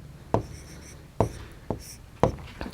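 Chalk or marker writes on a board in a classroom math lesson, producing sharp, close scratchy strokes in separate bursts, about four quick marks spaced a second or so apart, with no talk over them.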